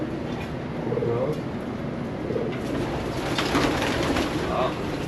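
Racing pigeons in a loft give soft, low repeated coos amid ambient rustle, with people talking quietly in the background.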